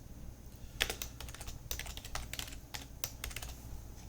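Rapid typing on a computer keyboard, a steady stream of close, crisp key clicks with uneven rhythm and occasional louder strikes over a low background hum, with no speech.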